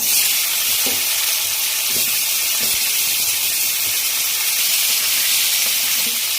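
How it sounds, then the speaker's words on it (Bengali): Raw banana sizzles loudly and steadily in hot tempered oil, a continuous close hiss broken by a few soft stirring knocks. "ফোড়ন দিলাম একটু কাঁচকলা,"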